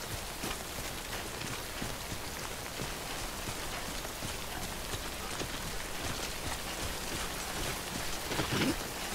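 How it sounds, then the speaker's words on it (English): Steady rain pours throughout in the video game Death Stranding, a dense, even hiss of drops on surfaces that swells slightly near the end, with no voices. "The rain can damage my cargo"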